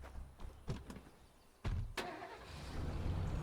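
A truck engine in a survival video game starts up and runs, rising from a low rumble with a couple of sharp clunks into a steady, louder drone.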